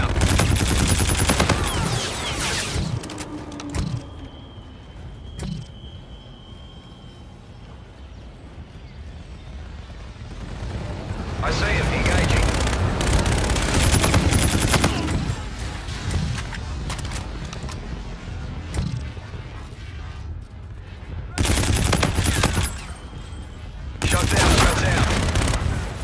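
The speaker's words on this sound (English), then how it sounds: "Roger, inbound for gun run." Gunfire from an aircraft gun run in Call of Duty Infinite Warfare on the Precinct map: loud, dense bursts and rattling volleys that come in several heavy waves, with quieter stretches between them and some voices now and then.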